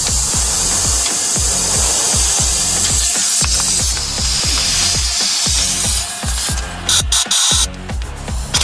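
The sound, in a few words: ratchet tightening bolts on Nissan Rogue axle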